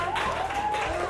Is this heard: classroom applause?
yes